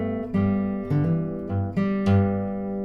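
A short fingerpicked measure on acoustic guitar: five or six clear plucked notes over a sustained bass, played close and alone at a relaxed pace.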